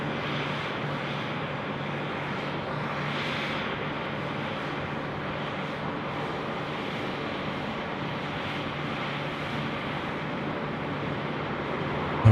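An airliner rolling for takeoff on runway 16 right at Sydney Airport, a steady broad engine roar at moderate distance that holds evenly throughout without fading.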